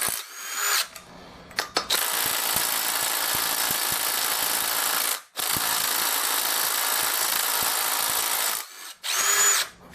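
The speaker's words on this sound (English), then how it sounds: "this gun is a DeWalt 20 volt" A DeWalt 20 volt cordless impact gun loosens cylinder head bolts on a racing mower engine during a teardown, giving long, loud, steady whirring runs broken by a few brief stops and short bursts.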